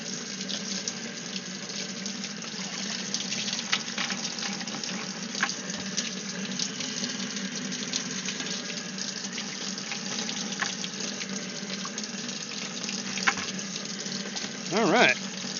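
Steady stream of running water from a tap or hose rinsing sand out of a bucket, a continuous even rush lasting throughout with a brief louder splash near the end.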